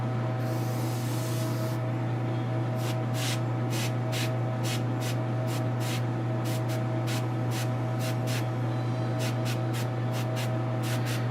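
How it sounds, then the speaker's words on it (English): Interference paint sprayed from an airbrush over black paint on costume armor, a string of short hissing bursts in a loose rhythm over a constant low hum from a compressor or fan. "if you buy a bottle of interference and spray it over the black paint like I'm doing now"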